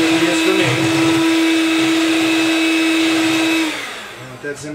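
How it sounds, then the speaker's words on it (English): A hand-held electric mixer whirs steadily as it beats a mousse mixture, a loud constant motor hum for several seconds before switching off. "I'm going to start beating it a little bit. Oh yeah, that's what I'm talking about. You have to watch your mixer"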